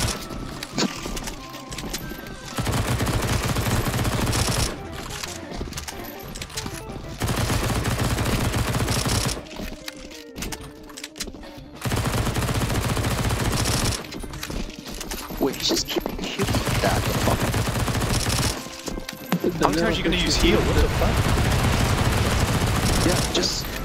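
Rapid gunfire from the video game CS2 Zombie Escape comes in long, loud bursts of fusillade and machine-gun fire, broken by short pauses, with voices talking over it.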